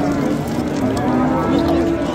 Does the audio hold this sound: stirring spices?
no